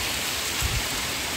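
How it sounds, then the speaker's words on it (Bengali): Heavy rain pours steadily beside a shrimp farming pond. It makes a dense, even hiss with a brief low rumble partway through, and no voices are heard. "প্রচুর বৃষ্টি চলে আইছে।"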